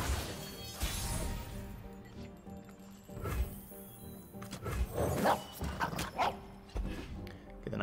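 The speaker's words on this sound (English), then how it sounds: "Get a nice puppy." A puppy barks in the Legends of Runeterra card game, a few sharp yapping bursts mixed into busy game music and crashing effects.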